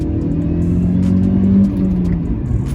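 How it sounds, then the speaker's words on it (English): Supercharged 2004 Mercedes C230 Kompressor engine with a manual transmission, rear-wheel drive and 180 horsepower, held at a steady, loud idle-to-rev drone close by, with a brief swell partway through and no talking. "this is a 2004 Mercedes C230 compressor, so it is supercharged and it pushes out 180 horsepower to the rear wheels"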